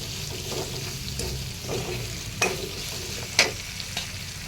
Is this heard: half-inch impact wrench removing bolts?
no